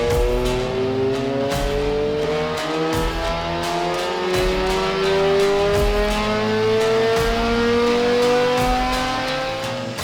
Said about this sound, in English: hearing a Lotus XGS supercharged on the dyno